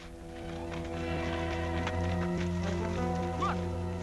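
Horse hooves clip-clopping at a steady walking pace, mixed with a sustained musical drone and faint background noise.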